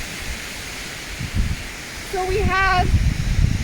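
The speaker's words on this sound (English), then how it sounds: "You guys can probably hear the wind in the background." Strong wind sweeps across a mountain ridge in the Canadian Rockies, a steady broadband rush with low gusty buffeting on the microphone, while a person speaks briefly over it.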